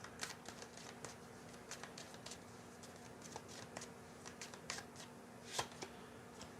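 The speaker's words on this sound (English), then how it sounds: "Let me just pull some additional cards here to clarify." Tarot cards are pulled and shuffled by hand in a quiet room, giving a steady run of soft papery riffles and flicks with a few sharper snaps, close and fairly faint, with no voices.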